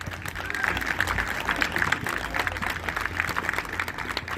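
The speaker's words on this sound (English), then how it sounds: "So y'all give a round of applause for Shaheen Rashad." An audience at a Stop the Violence event gives a steady round of applause, continuous crowd clapping that holds at an even level throughout with a few faint voices mixed in.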